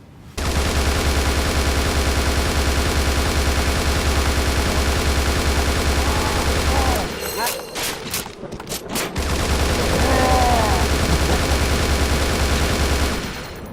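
Sustained rapid machine gun fire in the video game Bullet Witch, a dense unbroken stream of shots that pauses briefly around the middle for a few separate bursts, then resumes at full loudness.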